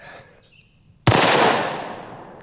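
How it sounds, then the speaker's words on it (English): A double barrel 1911 pistol chambered in .45 ACP fires one loud, sharp blast at close range, and the boom rings out and decays over the following second and a half. Faint quieter sounds come just before it. "I will take a couple shots just to show you how powerful it is."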